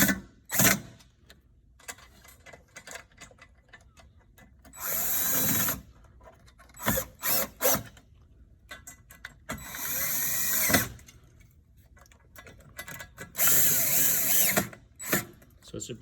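A power screwdriver tightens screws on a module bracket for a wall-hung E310 unit, running in several short bursts separated by quiet handling noises and clicks.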